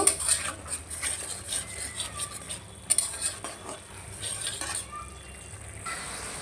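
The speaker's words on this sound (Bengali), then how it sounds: "মশলাটা ভালো করে কষায় নিব।" Masala with ground coriander and a teaspoon of cumin powder being stir-fried in a pan, a steady soft sizzle with scraping spatula strokes and a few sharp metallic clinks against the pan throughout.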